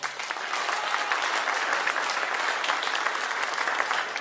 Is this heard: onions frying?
no